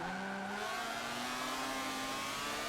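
A Mazda RX7 race car accelerating hard in Forza Motorsport 7, a loud, steady engine drone climbing in pitch with layered harmonics, heard alone.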